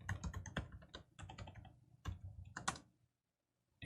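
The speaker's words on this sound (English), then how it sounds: "I'll type in the password yet again." A password is typed on a computer keyboard in quick close bursts of key clicks, a short pause, then a few more taps, quiet and alone.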